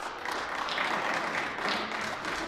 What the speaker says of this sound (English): So not every PCMLA just clapped for their interim leader.